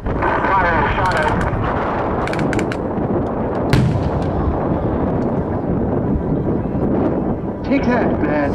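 Artillery gun firing during a joint forces demonstration at the 2012 Waterloo Airshow, loud booming blasts and rumble outdoors with wind buffeting the microphone, a commentator talking over it.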